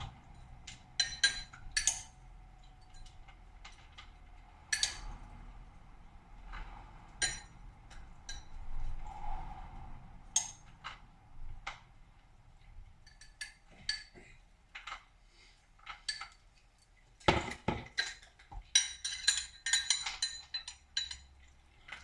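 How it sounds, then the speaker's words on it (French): Ladyfinger biscuits are set into a glass cup while a tiramisu is assembled, producing scattered light clinks and taps of glass, some isolated and some in quick clusters, with quiet gaps between them and no talking. "Donc au fond de la tasse, j'ajoute les boudoirs."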